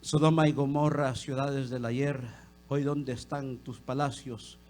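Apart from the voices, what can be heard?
No distinct noise like a dog, phone or traffic.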